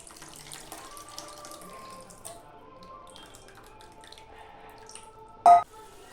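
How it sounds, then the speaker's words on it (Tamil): Tamarind water poured into a cooking pot for a yam tamarind curry, a thin trickling, dripping liquid flow with a brief louder splash near the end, close and quiet. "புளி தண்ணி ஊற்றிக்கலாம்."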